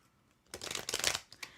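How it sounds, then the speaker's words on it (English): Tarot cards being shuffled by hand, a close, crisp flurry of riffling and slapping that starts abruptly after a quiet moment and tapers off within about a second, with no talking. "All right, Judith, I'm shuffling for you right now, my dear."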